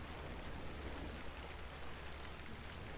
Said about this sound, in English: The rain, dude.